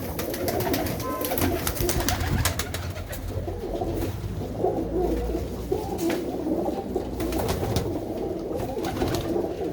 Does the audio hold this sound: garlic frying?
no